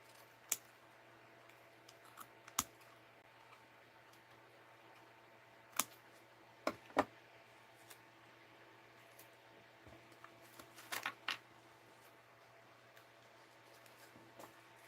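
Scissors snip through a paper page in a quiet room: a handful of sharp, isolated cuts spaced irregularly, with a short cluster near the end. The snips are close but soft, and no one speaks.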